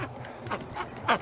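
A flock of female ducks quacks repeatedly in cold weather, a few loud, harsh calls rising over a steady murmur of softer quacking nearby.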